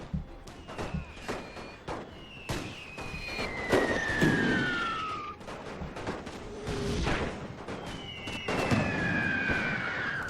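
Musket volleys and artillery rage in a Napoleon: Total War battle running the Great War mod. Crackling bursts of gunfire mix with long descending shell whistles, layered over a continuous battle din.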